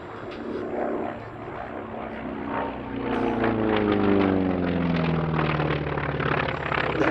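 A vintage WWII naval fighter flown by Navy Wings performs at the Duxford Battle of Britain Airshow 2024, its propeller engine droning in the distance, then swelling loud as it sweeps past with a falling pitch.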